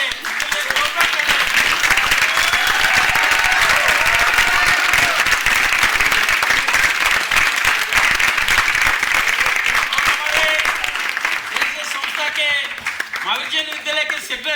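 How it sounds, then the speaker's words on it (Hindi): An audience at a children's Panchatantra stage play by Swatantra Theatre bursts into loud, sustained applause, dense clapping running almost the whole stretch before thinning out near the end, with faint voices mixed in. "उनके लिए जोरदार तालियां"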